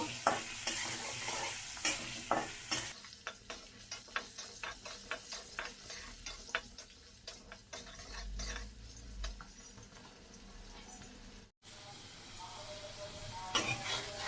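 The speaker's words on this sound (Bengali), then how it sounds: "সামান্য একটু হলুদের গুঁড়া, দিয়ে আমি আলুগুলা লাল লাল করে ভেজে নিব।" Potatoes fry with a pinch of turmeric powder, sizzling steadily while a spatula stirs and scrapes the pan in repeated strokes, with one brief drop in sound near the end.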